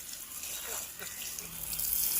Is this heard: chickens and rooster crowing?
no